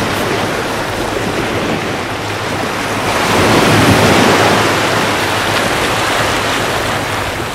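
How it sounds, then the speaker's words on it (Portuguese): Surf of the Caribbean Sea rolling onto a resort's private beach, a loud continuous wash of waves that swells in the middle, mixed with wind buffeting the microphone, no voices. "Mar do Caribe."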